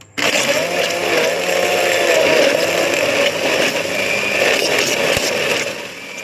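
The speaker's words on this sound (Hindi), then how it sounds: "अब हम अंजीर को ग्राइंड कर लेंगे" An electric grinder pulverizes figs for fig halwa, a steady loud motor whine running continuously for about six seconds with no talking.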